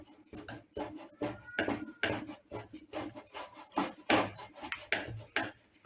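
A spoon scraping and knocking against a bowl while mixing chocolate crinkle cookie dough, a quick irregular rhythm of dull clacks and rasping strokes, close and steady throughout.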